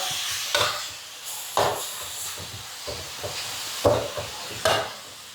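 Pork with spring onions and fried garlic being stir-fried, with soft sizzling under repeated scraping and clattering strokes of a utensil against the pan, about five distinct stirring bursts spaced across the stretch.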